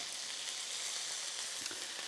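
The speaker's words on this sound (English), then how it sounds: "we got to brown this food, right? In a frying pan" Chicken pieces sizzling as they brown in a frying pan on a stovetop, a steady close hiss of frying fat with faint crackles and no voices.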